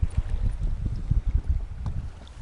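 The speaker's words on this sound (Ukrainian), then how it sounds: "Хвиля засильна, вітер засильний" Strong gusts buffet the microphone with low rumbling bursts, and waves slosh against a fishing boat in a steady churn, with no talking.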